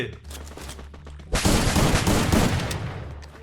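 An AK rifle fires in the Free Fire mobile battle-royale game, starting abruptly as a dense, loud, sustained burst of rapid automatic gunfire that carries on to the end, with faint game sounds beforehand.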